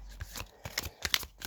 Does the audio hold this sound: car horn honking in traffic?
no